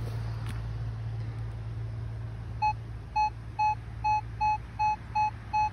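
A Minelab Equinox 800 metal detector sounds a clear, repeating target signal: about eight evenly spaced high tones start midway and continue to the end, over a quiet outdoor background.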